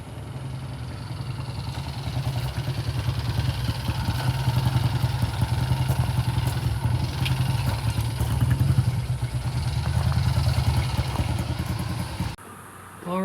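A white Triumph T120 motorcycle rumbles steadily nearby on a test ride, its engine swelling slightly louder toward the end before cutting off, with voices faintly present underneath.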